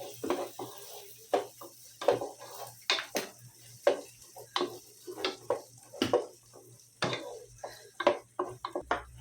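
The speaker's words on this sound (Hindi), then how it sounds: "हल्दी डाल दिए, हल्दी को अच्छे से भुनेंगे।" Turmeric roasting in a pan for khichdi, stirred with a metal spoon: repeated clinks and scrapes of the spoon against the pan come in an irregular rhythm, close and fairly quiet, with no talking.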